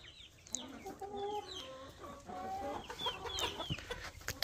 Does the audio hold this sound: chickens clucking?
yes